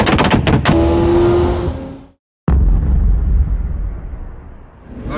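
A car that has not been run for a long time, loud rumbling engine and driving noise close up, cut by a brief silence, then resuming as a coarse steady roar that fades slightly at the end.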